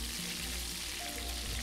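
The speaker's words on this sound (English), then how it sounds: "After the pork belly is well seared, you can chop it into small pieces by using scissors" Pork belly sears in a fat-filled pan during Korean camp cooking, giving a steady, close crackling sizzle with no voices.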